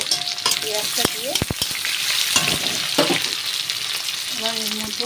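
Onions hit hot mustard oil already tempered with bay leaf, dried chillies and black mustard seeds, sizzling loudly and steadily up close while a spoon scrapes and stirs the pan, with no talking.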